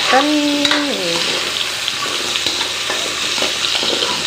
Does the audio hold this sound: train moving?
no